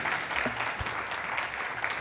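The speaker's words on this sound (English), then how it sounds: "Please give a warm round of applause for Ms." An audience at the California Legislative Black Caucus Heritage and Legend Awards applauds, a full, continuous patter of many hands clapping at close range, steady throughout with no speech.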